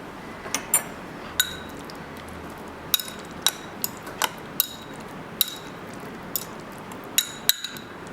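A spoon stirring marinated jackfruit in a bowl in a kitchen makes sharp, scattered clinks and taps against the dish, about a dozen irregular hits over a quiet background, without talk.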